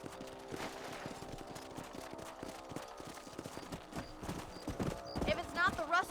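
Horse hooves clip-clop in a steady rhythm close by in the video game Red Dead Redemption, with people talking over them and brief bursts of other noise near the end.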